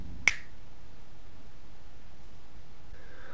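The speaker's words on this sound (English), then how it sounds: "just snap my fingers like this" One crisp finger snap rings out sharply near the start, then near silence with faint background hiss.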